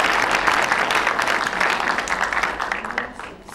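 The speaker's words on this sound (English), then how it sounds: "Another round of applause for her," An audience at an education panel event claps for a panelist in a dense round of applause that holds steady and then thins out toward the end.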